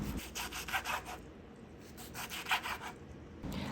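A knife cuts pickled mustard greens on a chopping board into strips about half an inch to an inch thick, giving faint rhythmic scraping strokes in two short bursts.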